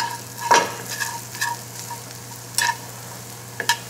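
Potatoes frying in grapeseed oil in a Borough Furnace cast iron skillet, a low steady sizzle with a few brief scraping stirs and clinks, close and with no voices.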